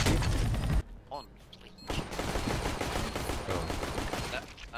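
Gunfire in Counter-Strike: Global Offensive, with loud bursts of shots and impacts, a brief quieter gap, then a renewed dense volley up close, while a voice talks over it.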